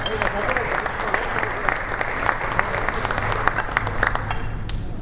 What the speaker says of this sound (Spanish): me gustaría que le diéramos un fuerte aplauso a Daniel Chavarrí